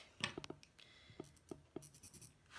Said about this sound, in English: I'll put a little dash. I use chalk.